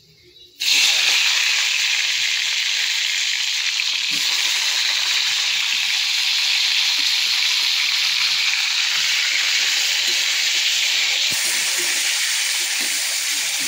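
Bitter gourd and potato pieces fry in hot oil with a loud, steady sizzling hiss that starts abruptly and holds evenly throughout, with no talk.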